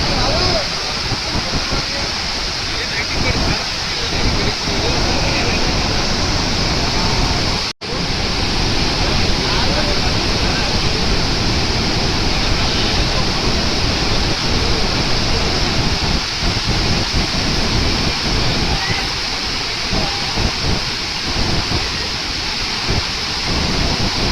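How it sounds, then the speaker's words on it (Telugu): A loud, steady roar of water gushing from open dam gates fills the whole clip, broad and continuous like a heavy torrent, with a brief cut partway through. "కింద పడి ఇంత మీదకి లేస్తున్నాయి వాటర్."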